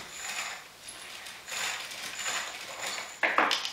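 A string-pulled case trimmer shaving the mouth of a 300 Win Mag brass case, giving bursts of raspy mechanical cutting and whirring with a sharp metallic scrape at the end, close up with no talking.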